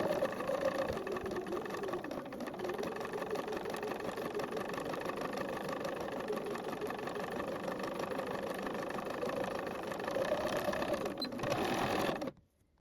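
A sewing machine runs steadily, stitching a dress seam one centimetre from the edge, a fast, even mechanical whir with a brief dip in pace before stopping abruptly at the end.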